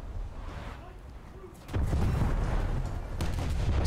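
Naval guns firing in War Thunder, with a quieter stretch that gives way to a loud low boom and rumble about halfway through, while a player speaks over it.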